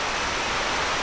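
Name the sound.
creek flowing beside an old cabin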